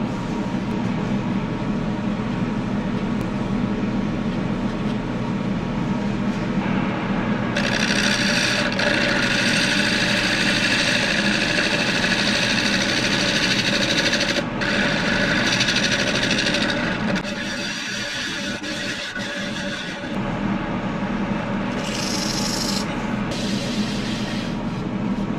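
A gouge cutting a black walnut salad bowl spinning on a wood lathe: a loud, continuous droning whir and scraping hiss with changing texture as the tool works the wood, steady throughout.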